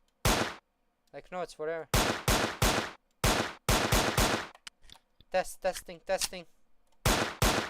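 Gunfire rings out in a horror video game under development, as a series of sharp loud shots in uneven bursts, alternating with someone talking between the shots.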